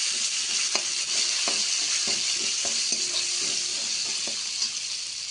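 Peas and other vegetables frying for veg pulao, a dense continuous sizzle with soft clinks and scrapes as a spoon stirs the pan, close and steady.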